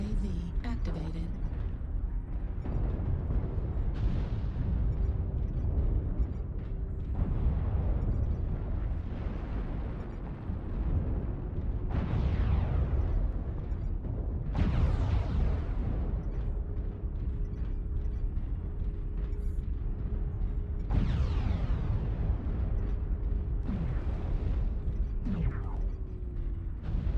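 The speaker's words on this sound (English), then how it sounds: "Artillery strike activated." Artillery strike explosions rumble through a MechWarrior Online battle, several heavy bursts arriving every few seconds with long decaying tails over a steady mechanical hum, and a voice speaks briefly.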